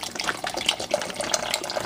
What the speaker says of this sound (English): And then we're going to add a bottle of water.